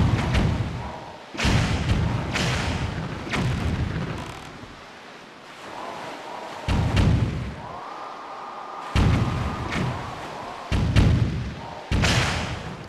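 Repeated heavy booms of cannon fire from The Legend of Zelda: The Wind Waker HD, irregularly spaced, each with a deep thudding blast and rumbling tail.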